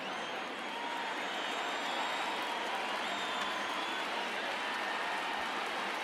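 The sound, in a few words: stadium crowd cheering in video game MLB The Show 19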